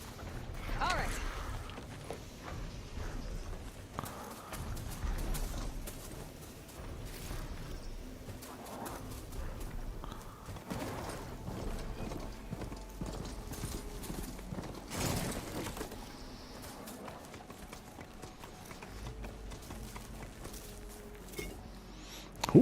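Horse hooves clip-clop in Horizon Forbidden West, an irregular walking beat with a few whinnies and game ambience, heard under a player talking.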